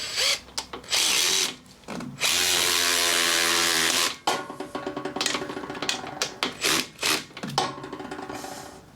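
Electric driver spinning out bolts on an old swap-meet chopper's fuel tank, a magneto-fired Harley Ironhead, in repeated loud whirring bursts, one long sustained run and several short stuttering pulses.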